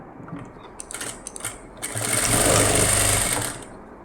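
A sewing machine stitches the lining of a blouse for a Poonam saree, a short burst of steady whirring running for about a second and a half after some light handling clicks, close and fairly loud.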